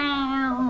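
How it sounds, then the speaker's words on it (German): A loud, drawn-out cat meow from the video game Layton's Mystery Journey, a single sustained call with a steady pitch, heard close and alone without talk. "was miaust du denn bitte so laut?"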